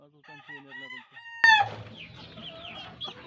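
Two-year-old Boston Sweater gamefowl rooster in a backyard, clucking in short repeated notes before one loud, close crow breaks out, followed by fainter clucks and background bird calls.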